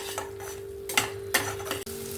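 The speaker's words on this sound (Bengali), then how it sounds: "পাঁচ মিনিটের মতন আমি মশলাটাকে কষিয়ে নেব ভালো করে" Spicy masala gravy for bottle gourd and prawn kofta curry sautéed and stirred in a pan: a gentle sizzle broken by three or four distinct scraping stirs close by, over a steady hum, and nobody speaks.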